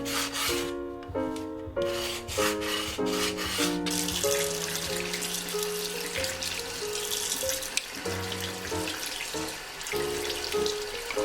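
The edges of a cement coaster are sanded by hand in repeated close scraping strokes with an uneven rhythm. There are no voices.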